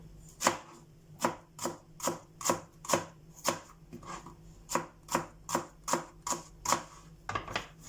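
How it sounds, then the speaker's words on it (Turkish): A knife chops onions into medium-thick slices on a cutting board for potato salad, with about fifteen crisp, evenly spaced close-up chops forming a steady rhythm. "Şimdi soğanları piyazlık şeklinde çok ince olmamak kaydıyla orta kalın keselim."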